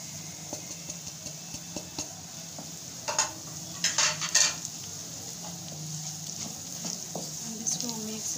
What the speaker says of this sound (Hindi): अब इसको हम 1 से 2 मिनट के लिए भूनेंगे ताकि हमारे मसालों का कच्चापन ख़त्म हो जाए